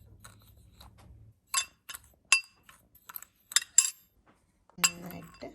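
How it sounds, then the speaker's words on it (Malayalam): Spoon clinking against a bowl while milk, cinnamon and nutmeg are stirred together for brioche French toast, several sharp separate taps with pauses, close and fairly quiet, no talk. "എന്നിട്ട് നമുക്ക് നന്നായിട്ട് മിക്സ് ചെയ്യാം."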